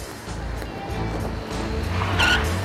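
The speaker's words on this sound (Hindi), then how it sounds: "एक गाड़ी मेरे बिल्कुल करीब आके रुकी, उसने अचानक ब्रेक लगाया" A car braking suddenly on a road, its tires squealing in a sustained rising screech over a rumbling engine and road noise, close and loud throughout.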